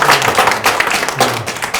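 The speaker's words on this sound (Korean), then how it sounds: "우리 이낙연 선대위원장님께 환영의 뜻을 담아서 큰 박수 보내드리겠습니다." Audience applause welcoming a politician at a ward council meeting in Seodaemun, with a burst of clapping from a small gathering that swells and fades in waves, fairly close and moderately loud.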